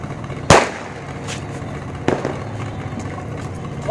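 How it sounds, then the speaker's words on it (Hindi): A grenade-type Diwali firecracker explodes outdoors with a sharp, loud bang, followed about a second and a half later by a second, softer crack, with quiet background between them. "ये है वो क्रैकर ग्रेनेड"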